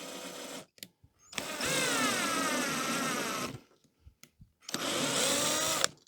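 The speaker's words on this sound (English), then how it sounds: "drill a pilot hole. It's not a hole as such, it's just threading into the timber" A power drill bores a pilot hole into timber for a screw, sounding as two loud, close motor bursts of about two seconds and one second, each with a rising whine, separated by short knocks and quiet.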